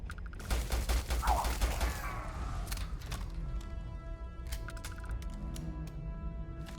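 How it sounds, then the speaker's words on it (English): Rapid bursts of gunfire in the sci-fi game Starfield, a dense volley of sharp shots at the start that gives way to sparser impacts and mechanical clatter, with a voice speaking briefly. "Who's shooting?"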